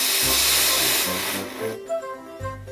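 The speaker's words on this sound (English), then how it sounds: "the deafening roar generated by blowing down a steam car" A loud, continuous roaring hiss of steam blown down from a steam car boiler, broad and harsh for about two seconds, then shifting to a thinner hiss with knocking tones beneath.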